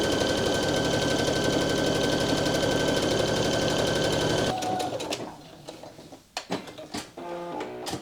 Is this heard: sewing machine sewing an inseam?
yes